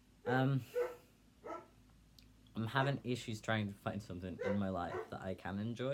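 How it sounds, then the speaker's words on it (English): A large German Shepherd gives a few high, puppy-like whines near the start, woven between stretches of someone talking steadily nearby. "he's this big German Shepherd"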